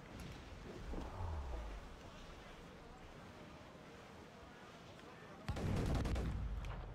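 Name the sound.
ship cannon fire at schooners, Assassin's Creed IV: Black Flag video game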